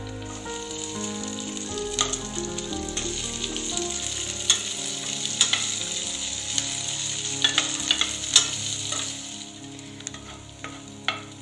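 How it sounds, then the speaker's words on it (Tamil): Small onions sizzle steadily in a hot pan while cooking down for tomato chutney, a continuous close frying hiss with light crackles and occasional stirring scrapes, no voices. "அடுத்ததான் இதுல நம்ம சின்ன வெங்காயம் சேர்க்க போறோம்"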